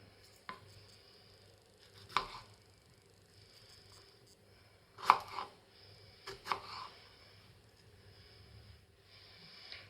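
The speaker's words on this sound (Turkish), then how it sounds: "Çileklerin tamamını aynı şekilde doğradık." Several distinct knife chops through strawberries on a cutting board, spaced irregularly, quiet against a faint room hum with no talking.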